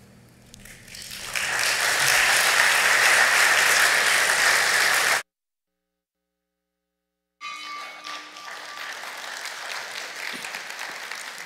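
A church congregation at a Sunday worship service breaks into loud, sustained applause that swells after a second and fills the room, then cuts to silence for about two seconds before lighter clapping and room noise resume.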